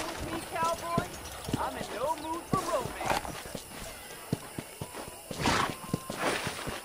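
Horse hooves clip-clopping in the video game Red Dead Redemption, irregular knocks from a walking horse with a short whinny, close, while someone talks over them.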